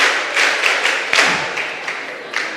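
An audience at a mentorship session welcomes Reverend Joseph Apia with applause: thick, sustained clapping from a crowd, with a few louder claps standing out.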